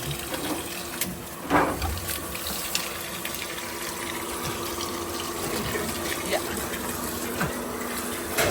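Water runs steadily from a newly installed 1-horsepower Jetmatic pump drawing from a well, a continuous gushing flow with a few brief splashes and bumps, heard alone in an outdoor setting.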